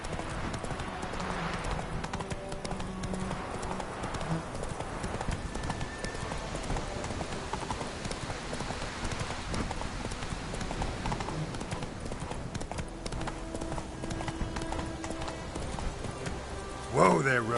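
Hooves of the horse Roach in the game Witcher 3: Wild Hunt, a steady rhythmic clip-clop of trotting on ground with game ambience, and a voice speaking briefly over it.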